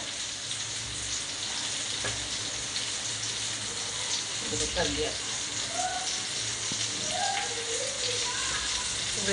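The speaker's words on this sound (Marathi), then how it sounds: "आपली मच्छी फ्राय होईपर्यंत" Silver fish frying in a pan for a Malvani-style dish give off a steady close sizzle and crackle with light bubbling, while a voice speaks faintly underneath.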